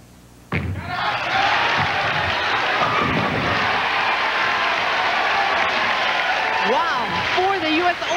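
Applause breaks out suddenly in the arena at the 1999 US Open bowling finals, a loud sustained wave of clapping and crowd noise that carries cheering voices on top.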